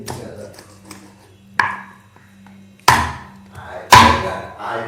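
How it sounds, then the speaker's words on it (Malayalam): Chicken pieces being chopped with a knife on a board, with three or four loud, separated thwacks ringing out sharply over quiet background hum. "ചിക്കൻ മുറിക്കണം."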